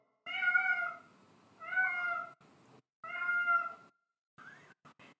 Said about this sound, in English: He keeps going by the door and meowing.